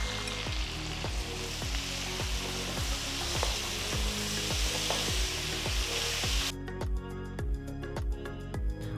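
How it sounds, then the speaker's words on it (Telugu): Six medium onions, sliced lengthwise, sizzle steadily in hot oil in a kadai while being prepared for chicken biryani, with a dense continuous frying hiss and a regular rhythmic scrape of stirring throughout, close and fairly loud. "అదే కడాయిలో నేను 6 మీడియం ఉల్లిపాయల్ని ఇలా పొడవుగా కట్ చేసి వేస్తున్నాను"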